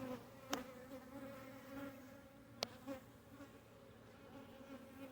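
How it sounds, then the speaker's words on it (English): Very active honeybees swarm at an open hive during a January brood check, a steady close buzzing drone with a couple of sharp clicks and no talking. "today is not a good day to be inside the bees because they are very, very active"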